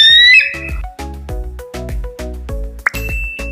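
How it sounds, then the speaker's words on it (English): An eagle lets out a brief, high, whistling screech at the start, followed by a run of bright, bell-like chimes. "eagle"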